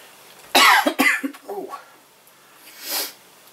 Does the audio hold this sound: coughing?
yes